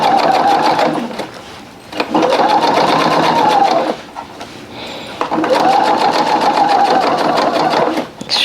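A sewing machine stitches through four layers of denim and interfacing for a bucket hat made from jeans. Three loud close bursts of rapid needle hammering are split by short pauses.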